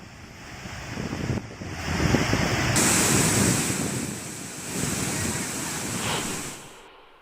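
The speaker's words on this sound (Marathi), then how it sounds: "रौद्र रूप धारण केलेल्या रंधा फॉलची ही दृश्य" The Randha waterfall thunders in full flood, a dense, continuous roar of crashing water that swells and eases slightly, heard up close with no talking.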